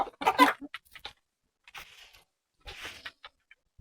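A few chickens clucking in short, scattered bursts with brief quiet gaps between them, close by, with a rooster among them.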